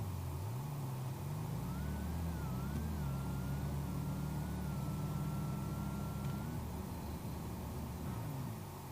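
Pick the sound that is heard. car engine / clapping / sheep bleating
car engine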